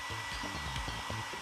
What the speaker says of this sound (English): placed it in the airstream of a hairdryer.